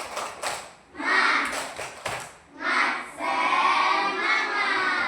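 A group claps through a rhythmic 'tepuk semangat' routine: sharp, quick claps at first, then a sustained burst of many hands clapping together, fairly loud and close.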